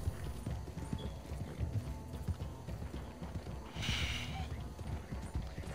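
Horse hooves clip-clop steadily in Red Dead Redemption 2, a continuous close rhythmic trot with a brief brighter noise burst midway and no talking.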